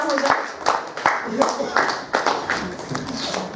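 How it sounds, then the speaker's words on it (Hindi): A small crowd at a Lions Club stage event claps in uneven bursts while a voice keeps talking over the applause. "जोरदार तालियां हो जाए।"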